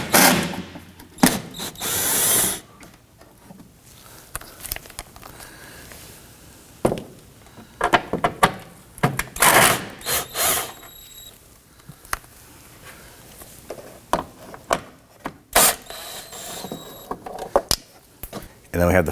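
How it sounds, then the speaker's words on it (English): A power tool whirs in short bursts while loosening and removing 10mm bolts from the fender liner of a 2018-2024 Toyota Camry, interrupted by pauses, clicks and clattering parts, with someone talking throughout. "Six 10mm bolts running around the inside of the fender liner here. We're going to loosen and remove these."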